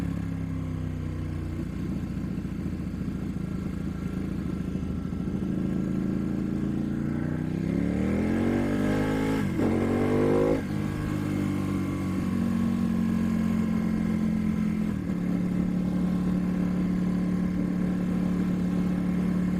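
A 2015 Ducati motorcycle accelerates hard, engine pitch climbing through several gears with quick-shifter changes, close and loud, then settling into a steady higher drone.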